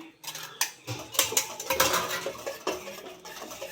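Onions stirred in a cooking pot for chicken kulambu: a spoon scrapes and clinks against the metal pot in quick irregular strokes, close and fairly quiet, with no talking.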